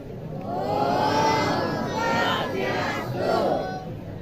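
Audience crowd shouting and cheering together, a loud sustained mass of voices rising and swelling in waves.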